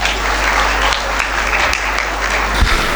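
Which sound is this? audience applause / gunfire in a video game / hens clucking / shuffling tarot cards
audience applause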